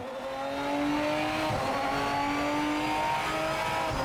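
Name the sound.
race car engine revving and gear shifts, from the video game Project Motor Racing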